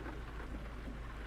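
Steady rain in the American Truck Simulator game, a dense continuous wash of falling water with a low rumbling undertone, loud and even throughout with no voices.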